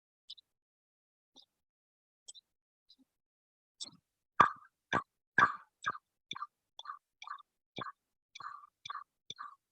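A chipmunk gives its woody chucking call: faint, sparse clicks at first, then a loud run of about a dozen hollow chucks in a fairly even rhythm, close by and alone against silence.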